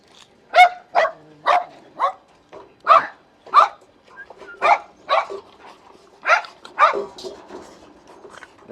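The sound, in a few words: Labrador puppies barking in a kennel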